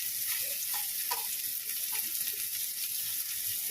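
Fritters fry in hot oil with a continuous bright sizzle that holds even and steady from start to finish, close up and unaccompanied by any voice.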